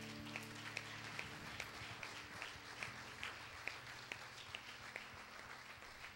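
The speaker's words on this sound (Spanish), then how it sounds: "Dele un fuerte aplauso al Señor." A church congregation claps in a steady rhythm during worship, faint and distant over a soft sustained musical backing.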